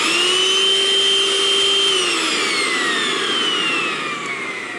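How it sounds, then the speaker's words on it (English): A cordless vacuum cleaner runs steadily in a woodworking shop, its high motor whine loud and close, then the pitch slowly sags and the sound eases off toward the end as it winds down. "cordless vacuum."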